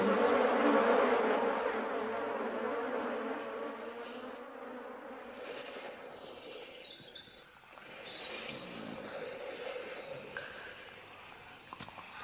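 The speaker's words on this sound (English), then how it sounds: "I shall ask Benjamin Bunny to help me drive out these tiresome bees" Steady insect buzzing from a swarm of bees in the Peter Rabbit cartoon of the Flopsy Bunnies. It starts loud and fairly close, then eases to a softer, continuous drone with faint chirps, and no one talks over it.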